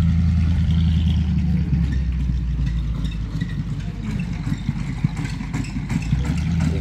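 Two trucks pass with heavy engines running, a deep, continuous low rumble with a steady throbbing that stays loud and close throughout, without voices.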